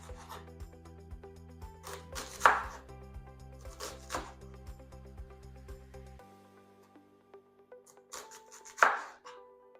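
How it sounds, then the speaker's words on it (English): A knife chops through big onions on a board, beginning with a run of quick regular taps and then slowing to scattered slicing strokes and a few sharp, louder cuts, close and clear in a quiet kitchen. "that's how I cut my onions"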